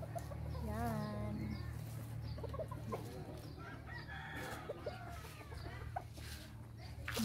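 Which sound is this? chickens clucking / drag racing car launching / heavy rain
chickens clucking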